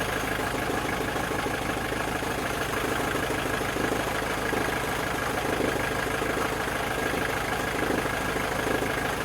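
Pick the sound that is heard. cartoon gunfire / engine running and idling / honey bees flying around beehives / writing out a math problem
engine running and idling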